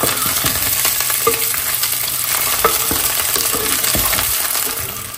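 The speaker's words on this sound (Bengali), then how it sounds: "ডিমগুলোকে হালকা ঘি দিয়ে ভেজে নিচ্ছি" Eggs fry in ghee in a pan, giving a steady close sizzle broken by scattered taps and clinks of a utensil as they are turned.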